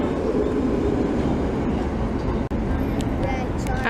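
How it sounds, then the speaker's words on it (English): A new CAF tram on route 19 in Prague or Budapest rumbles past nearby with a steady, continuous rolling noise and faint rail clatter, while people talk over it. "here it is, the new CAF tram running on the 19"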